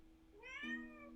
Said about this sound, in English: apologies for the cat meowing